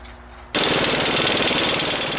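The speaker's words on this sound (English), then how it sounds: "Install our axle nut." Impact gun tightening the axle nut on a 2002 Ford Focus during clutch replacement. After a brief quiet moment it starts suddenly with a loud, close, continuous rapid hammering rattle.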